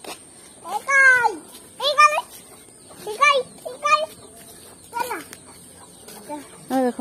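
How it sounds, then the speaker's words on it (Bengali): Chickens cluck in short, rising bursts, spaced every second or so and fairly close, in an outdoor yard where children's voices mingle with them. "দেখো মুরগি।"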